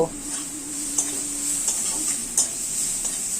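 Taro peel is stir-fried in a spice mix, producing a steady close sizzle broken by several sharp stirring scrapes, with a faint brief hum early on.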